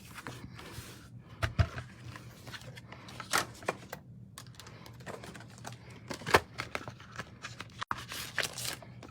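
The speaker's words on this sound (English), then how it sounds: "And now I'm going to die cut this." A paper card is run through a die-cutting machine, giving irregular clicks, taps and papery rustles at close range in a quiet room, with some brief sharp knocks.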